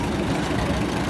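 A 1941 Case HDC antique tractor idling as it enters the arena at a county antique machinery show parade, a steady low engine rumble, close and moderately loud, with no talk.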